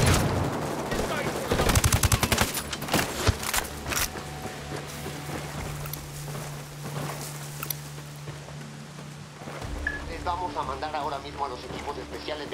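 Gunfight in the Ghost Recon Wildlands video game: dense, close bursts of automatic rifle fire and single shots, heaviest early and then tapering, with a squad talking over the shooting.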